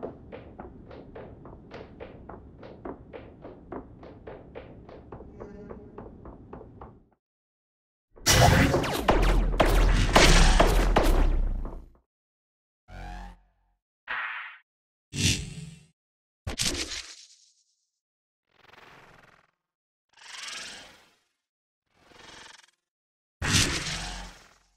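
Footstep foley on glass and concrete surfaces for the Lyra demo in Unreal Engine 5.1: a steady train of light rhythmic steps, then a loud burst, then separate crisp, bright impacts spaced apart with silence between them.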